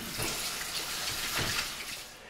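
A brisket rinsed under a running kitchen tap, steady splashing water with slight surges as the meat shifts under the stream, continuous and close, with no talking.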